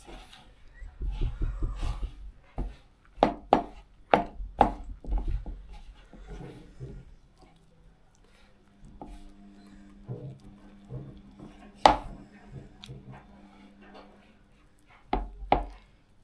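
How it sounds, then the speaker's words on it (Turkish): A spoon stirs a thin, liquid mixture with added starch in a bowl, producing irregular close knocks and scrapes against the bowl with quieter gaps between them. A brief faint voice is heard partway through. "Karıştırıyoruz."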